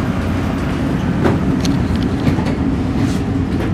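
Interior of a Market-Frankford Line M4 subway car, number 1062, heading toward 69th Street: a steady loud rumble of the train running, with broadband rail roar holding evenly throughout and no talk.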